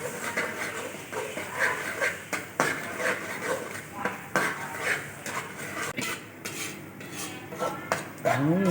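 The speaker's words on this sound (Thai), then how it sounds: "เราก็จะผัดพริกแกงไปเรื่อยๆครับผม" Homemade curry paste stir-fried in a pan, with repeated metal spatula scrapes and clanks in an uneven rhythm over a faint background sizzle, close and fairly loud.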